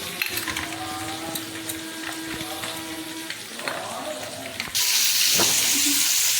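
Onions frying in a pan for a Bengali bharta give a steady, close sizzle and hiss that jumps to a much louder, fuller sizzle near the end.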